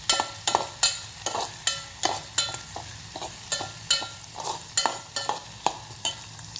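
Onion and green chilli fry in a hot pan as a spoon stirs them, giving about a dozen evenly spaced scraping strokes over a steady close sizzle, with no voices.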